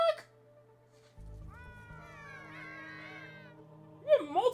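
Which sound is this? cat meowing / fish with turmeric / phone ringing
cat meowing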